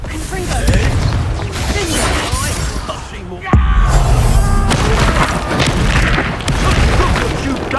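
Confringo spell explosion in the video game Hogwarts Legacy: a loud, dense burst of booming blasts and crashing debris, a sharp bang partway through, over constant battle noise and game voices.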